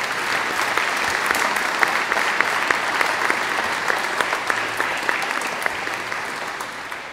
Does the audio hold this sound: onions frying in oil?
no